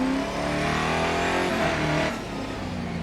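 Holden V8 race car engine from the cockpit in the GRID Autosport racing game: steady, loud, buzzing engine drone that dips in pitch with a gear change near the end.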